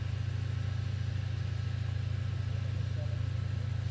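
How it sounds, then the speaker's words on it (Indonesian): A CC 205 diesel locomotive idles with a steady, low, throbbing engine drone that holds constant throughout at moderate distance, with no talk over it. "Suara mesin dari lokomotif CC 205 ya"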